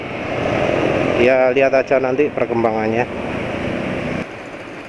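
A steady engine drones in the background throughout while someone speaks briefly over it in the middle.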